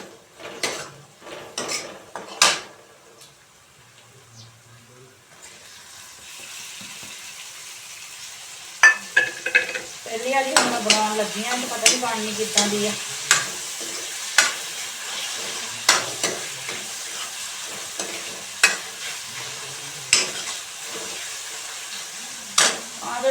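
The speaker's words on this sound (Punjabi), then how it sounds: "ਮੈਂ ਸਬਜ਼ੀਆਂ ਤੜਕਾ ਲਾਉਣੀ ਆ" Vegetables fry in tempering oil, sizzling and spattering, with a spoon stirring and clinking against a pan; someone talks briefly near the start.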